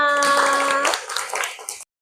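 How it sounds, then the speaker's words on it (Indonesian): A class claps together briefly, a short scattered flurry of hands right after a voice rings out, ending abruptly in silence. "Tepuk tangan untuk kita semua"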